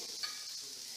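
Potatoes seasoned with salt and pepper fry in a pan and get stirred, a faint, steady hiss of sizzling oil with one small scrape in a brief moment.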